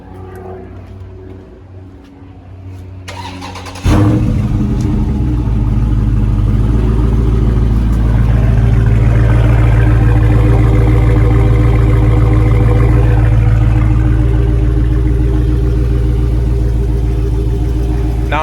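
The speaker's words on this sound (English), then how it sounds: "let's get a nice note of what the exhaust sounds like stock on a Scat Pack" A stock Dodge Challenger Scat Pack with a 392 V8 on its regular cruising exhaust setting starts up after a few seconds of quiet, then settles into a loud, steady, deep rumbling idle close by.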